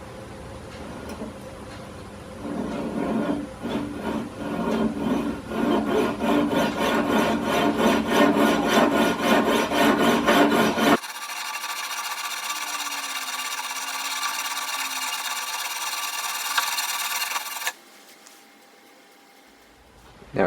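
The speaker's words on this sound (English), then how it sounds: "First things first, just need to remove the little burr that was made from the jeweler's saw. So just file that off." A file rasps rhythmically against the burr on small metal watch screw stock, a steady close scraping stroke pattern, followed by a smoother continuous whirring and then near silence.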